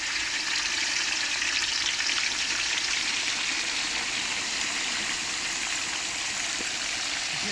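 Turkey lowered into hot oil for deep frying gives a steady, dense sizzle and crackle, close and continuous throughout, with no talk.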